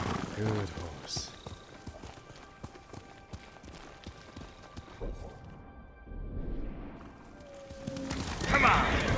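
A horse gallops in Ghost of Tsushima, a steady run of hoofbeats with a brief whinny, close and fairly loud, with a voice speaking briefly over it.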